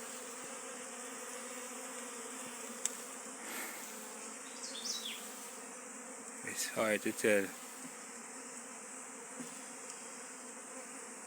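Honeybees in a small cluster hum steadily during a hive removal, a constant low buzzing drone throughout, with a brief spoken remark partway through.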